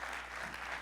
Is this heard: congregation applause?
yes